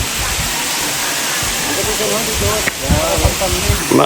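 Water flowing from a natural mountain spring, a continuous rushing hiss close by, with splashes and sloshing toward the end as people talk over it.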